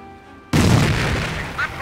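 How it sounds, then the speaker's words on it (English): A sudden deep boom from a grenade explosion in Company of Heroes bursts in after a quiet moment, with a rumbling tail of battlefield noise. "Prepare grenades"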